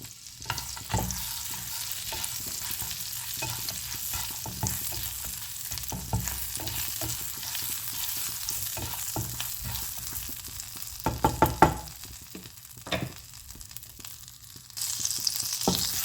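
Cumin seeds and red chilies sizzling in melted butter for a dal tadka, a soft steady hiss with scattered crackles and spoon scrapes, close and fairly quiet, with a brief louder stir near the end.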